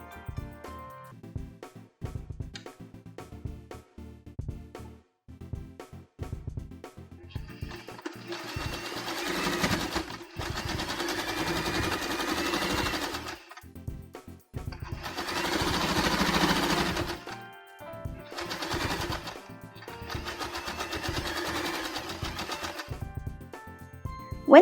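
A sewing machine stitches fabric at the center of a double Celtic knot headband, running in close, steady bursts of rapid needle chatter with short pauses between runs and slower single stitches at the start.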